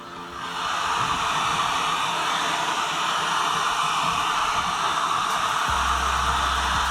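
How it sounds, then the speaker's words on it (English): A heat tool runs steadily, post-heating material that has been worked into a deep recess, giving a continuous close, loud airy blowing hiss with a low hum joining near the end. "you want to apply and post heat something like this, where you're actually deleting the memory from the material itself"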